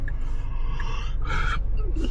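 A person gives a single drawn-out, breathy yawn inside a Tesla on Full Self-Driving (HW3) in Long Island, rising and fading over the steady low rumble of the moving car.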